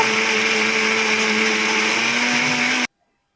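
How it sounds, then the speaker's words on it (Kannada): A kitchen mixer grinder churns soaked ingredients into smooth dosa batter, giving a loud, steady whirring hum for almost three seconds before it switches off abruptly into silence. "ಎಲ್ಲವನ್ನು ಒಟ್ಟಿಗೆ ಮಿಕ್ಸ್ ಮಾಡಿ ಗ್ರೈಂಡ್ ಮಾಡ್ಕೋತಾ ಇದ್ದೀನಿ ದೋಸೆಗೆ ನಾವು ನೈಸಾಗಿ ಗ್ರೈಂಡ್ ಮಾಡ್ಕೋಬೇಕು"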